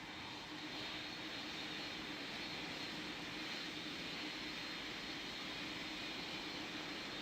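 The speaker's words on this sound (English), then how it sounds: "Lufthansa 8325, you're cleared for takeoff on runway 13." A steady, loud roar of an airliner engine runs throughout during a takeoff in the Roblox game Pilot Training Flight Simulator, a constant broadband rumble with no speech over it.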